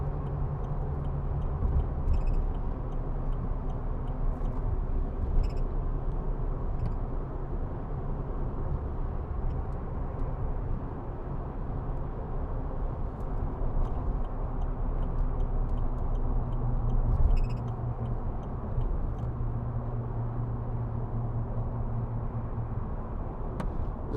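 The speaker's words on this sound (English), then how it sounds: "noise from the tyres, but only to be expected" Steady low rumble of tyre and road noise inside a moving 2009 Land Rover Discovery 2 Td5 commercial automatic, a constant broadband drone with faint ticking above it and no talking.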